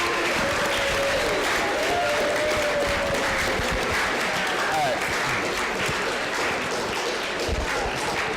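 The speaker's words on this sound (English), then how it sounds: "Let's have a round of applause for everyone." A school audience applauds after a student climate team presentation, sustained, loud clapping that stays full throughout, with cheering and voices mixed in.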